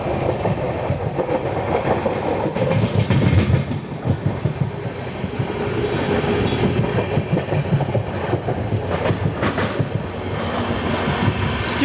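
The Shirdi Mysuru Express passenger train runs at speed, loud close-up rumble and rattle of carriages with steady clickety-clack from the rails throughout, swelling and easing slightly.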